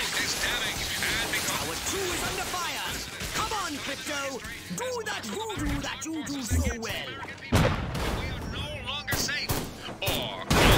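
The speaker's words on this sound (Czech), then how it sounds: "Ten někdo střílí." Scattered gunshots and bursts of fire in the video game Destroy All Humans! crack through the scene while people talk excitedly in Czech over the noise.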